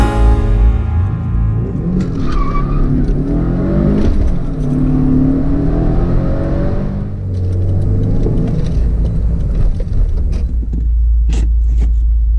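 A car driving along in steady motion, its engine rumble and road noise continuous throughout, rising slightly as it accelerates, heard from inside with no talk.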